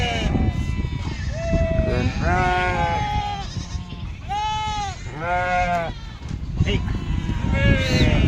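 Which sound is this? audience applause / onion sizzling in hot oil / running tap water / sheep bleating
sheep bleating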